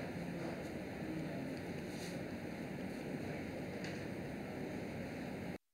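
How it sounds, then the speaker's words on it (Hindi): Water overflowing from the Sharda Sagar dam floods village homes, fields and crops with a steady, continuous rushing roar. Wind buffets the microphone throughout, and no voices are heard. "शारदा सागर डैम का पानी ओवरफ्लो हो गया है, जिससे घर मकान खेत खलियान फसल सब कुछ जलमग्न हो गए हैं"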